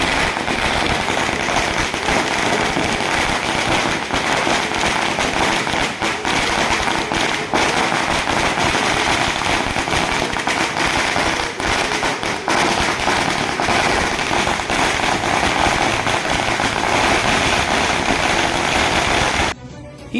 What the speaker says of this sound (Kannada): ನೂರಾರು ಅಭಿಮಾನಿಗಳು ಪಾಲ್ಗೊಂಡು ಪಟಾಕಿ ಸಿಡಿಸಿ ಸಂಭ್ರಮಿಸಿದರು